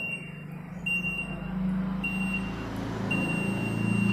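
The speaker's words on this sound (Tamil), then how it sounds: "சின்னதாக ஒரு பீப் சவுண்ட்" A multimeter on continuity test gives thin, steady electronic beeps between two wires, in short separated tones over a low background hum.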